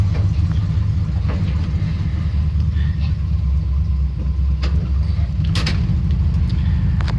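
A 1978 Chevrolet C10 pickup truck engine idles outdoors with a steady, loud low rumble throughout, occasional faint clicks and knocks riding over the constant drone.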